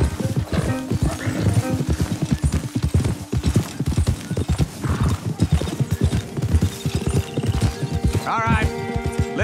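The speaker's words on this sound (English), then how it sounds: "Don't want the horses clopping around outside the window." Horses clopping in the video game Red Dead Redemption 2, a loud, close, steady rhythm of hoofbeats with a horse whinnying near the end.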